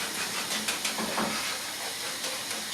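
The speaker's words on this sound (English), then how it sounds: "so just be brave and put the bottle of cider in" Cider poured into a hot pan for a sausage and apple casserole, giving a soft hissing sizzle with a few brief splashy bursts, fairly close and steady, with no talking.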